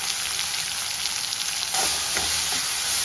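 Steady hissing sizzle of cinnamon and cloves frying in hot oil, close up, with a few soft stirring scrapes near the end.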